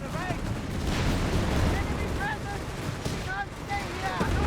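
Anti-tank guns in Company of Heroes 3 fire during a desert battle between Afrika Korps and British forces, dull heavy booms under busy battle noise and continuous commentary.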